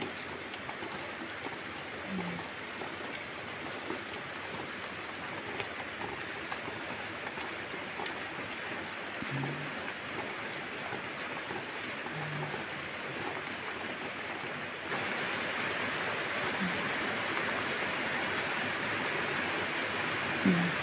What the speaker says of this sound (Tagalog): Lumakas na naman yung ulan guys.